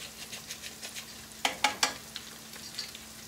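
Rice being stirred as it browns in a pan, a few sharp scraping strokes in a quick cluster over a soft, steady frying sizzle, close and fairly quiet.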